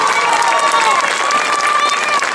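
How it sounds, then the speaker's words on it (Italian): A crowd at an open-air Sassarese song concert in Ploaghe claps loudly and continuously, with cheering voices and faint melodic tones mixed into the dense applause. "lei si goda questo applauso meritatissimo"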